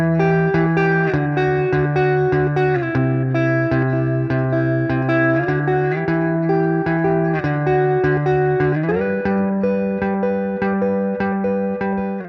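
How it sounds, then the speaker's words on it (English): Electric guitar played through Silver Llama and Twin Panda amp simulators with spring reverb added: sustained chords and notes ring steadily and loudly with a washy reverb tail, changing chord every second or so, with no voices. "let's see what happens if we add a little bit of this spring reverb."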